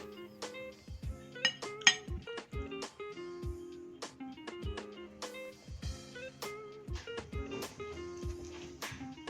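A knife cuts a steamed sweet potato into round slices, giving a series of light, close taps and clinks against a plate or board, irregular but steady, with soft handling sounds between cuts.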